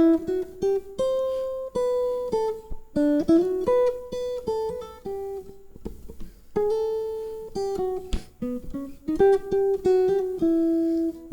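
Jazz guitar played alone in a clear, close tone, a run of single-note melodic phrases with held notes and short pauses between them.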